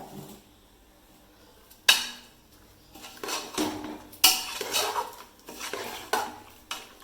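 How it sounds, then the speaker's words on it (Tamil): A utensil scrapes and clinks around a metal pot in repeated strokes while stirring aviyal, close by, with sharp taps against the rim. "நல்லா கிண்டலாம்."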